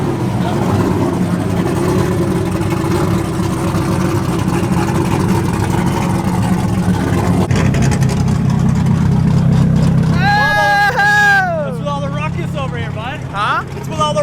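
Several drift cars with SR20 and VQ engines idle and rev at a busy drift meet, a steady low engine drone with a rising swell of revs, while people talk over the noise nearby.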